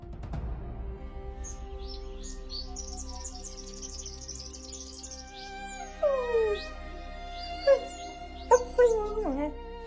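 African wild dogs give high, bird-like twittering chirps in quick bursts, followed by louder, sliding squeals and whines, set against a low background drone and faint insect buzz.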